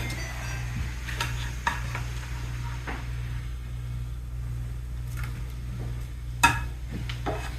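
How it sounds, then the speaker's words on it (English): A spoon stirs a pan sauce after the heat is switched off, giving soft scraping strokes and a few sharp clinks over a steady low hum, with no voices. "we'll kind of give everything one last stir so everything gets that lovely sauce all over it"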